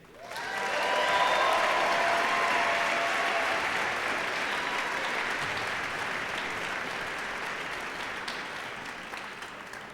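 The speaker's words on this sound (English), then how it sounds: "If you could give everyone backstage a huge round of applause" An audience at a live Failure:Lab event in Grand Rapids gives a sustained round of applause that swells quickly, then slowly thins out over about ten seconds.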